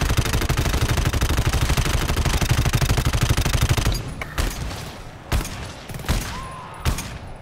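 Rapid automatic gunfire rattles loudly for about four seconds in the video game GTFO, then breaks into a few separate sharp shots with short gaps between them.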